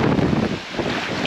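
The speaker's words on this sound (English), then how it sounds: "just because it's gusting 60 mile an hour winds out here" Strong gusting wind on open water during a sub-zero Alabama duck hunt, roaring and buffeting the microphone loudly and steadily, with a brief dip in the middle and no talking.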